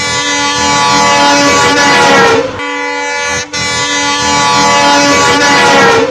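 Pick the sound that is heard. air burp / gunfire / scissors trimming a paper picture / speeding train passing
speeding train passing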